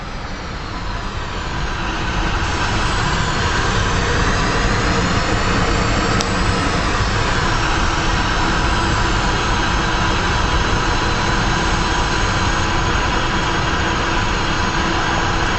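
An F-5 fighter's jet engine spooling up for takeoff in the DCS flight simulator, a loud sustained roar with rising whine that swells in the first seconds and then holds steady, no voices.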